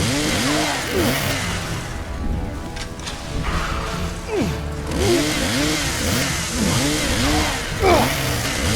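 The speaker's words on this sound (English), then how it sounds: "The Deadite bursts in with the chainsaw." A chainsaw revs in the Evil Dead video game as a Deadite bursts in wielding it, the engine snarling loud and close in repeated rising surges with crashing hits mixed in.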